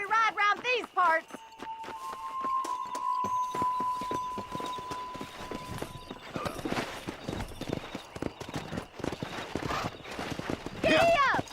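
Horse hooves clip-clop steadily in Red Dead Redemption as the mount sets off, with a brief whinny near the start; the hoofbeats run throughout under game music and characters talking.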